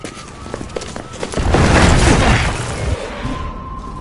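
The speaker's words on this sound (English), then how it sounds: "Commencing with bombing." Bombing explosions in a hostage-rescue combat scene, a large blast swelling up and rumbling over a couple of seconds before fading, with smaller bangs and pops around it.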